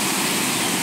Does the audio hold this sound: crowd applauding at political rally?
no